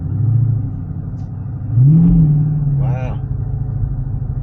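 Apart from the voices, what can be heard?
Dodge Challenger SRT 392 Scat Pack accelerating in sport mode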